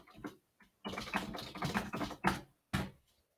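Someone types a domain name on a computer keyboard, a quick run of crisp, close key taps in uneven bursts with a few short pauses, no voices.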